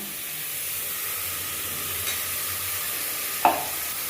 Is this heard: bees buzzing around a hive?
no